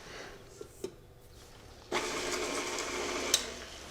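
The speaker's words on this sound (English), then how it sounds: "I'm just going to mix them on the mixer until they're combined." Electric hand mixer starts up partway through, a steady bright whirring blending dry cake ingredients in a bowl, close by after a couple of soft knocks.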